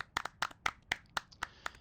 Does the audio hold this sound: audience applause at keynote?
yes